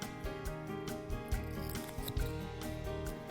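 Scissors snip through stiffened two-sided craft material for homemade butterflies, a series of close, crisp cuts with rustling handling sounds between them and no talking.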